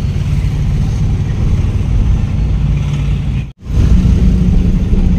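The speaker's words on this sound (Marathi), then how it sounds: "बघा कसं ट्रॅफिक व्हायला लागलं" Road traffic as heard from inside a moving Porter goods vehicle, a loud continuous engine drone and road rumble that dips to near silence for a moment before returning just as strong.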